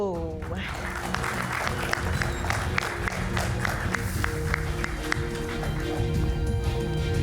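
A studio audience at a televised talk show applauds for a guest, giving a steady, even ovation that runs the full stretch at moderate loudness with a faint voice beneath.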